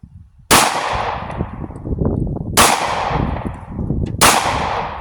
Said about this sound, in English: I'm shooting 9mm out of the Taurus G3